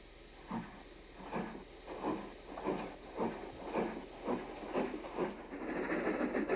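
A steam train chuffs rhythmically, about two puffs per second, over a steady background hiss, heard at moderate distance.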